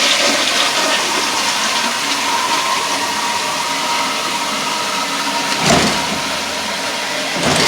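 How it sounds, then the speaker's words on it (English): A toilet flushes loudly and up close, a steady rushing roar of water lasting several seconds with a brief surge near the end. "Toilet flushing."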